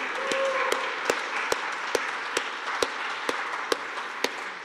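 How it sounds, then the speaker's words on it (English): Audience applause at a lecture hall event, a continuous wash of clapping with sharper, evenly spaced claps standing out at a steady beat, fairly close and sustained throughout. "I think we need a round of applause for the people who make all of this possible."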